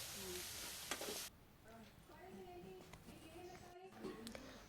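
Coriander leaves fry in oil with a steady sizzle that is loud at first and then drops to a quieter crackle, while a voice talks over it.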